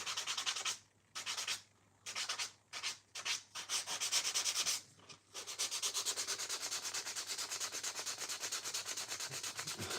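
Sandpaper is rubbed over a surface in a skate workshop, first in short bursts of sanding separated by brief pauses, then in a continuous rapid back-and-forth scrubbing, close and steady with no talking.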